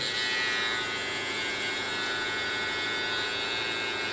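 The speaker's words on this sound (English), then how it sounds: "we're going to take our trimmers, and we're going to ball it in the back" Electric hair trimmers tapering the back of a fade haircut give a steady, close, high-pitched buzzing drone that continues unbroken throughout, with no voices.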